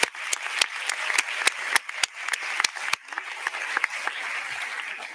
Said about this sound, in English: You can applaud that one.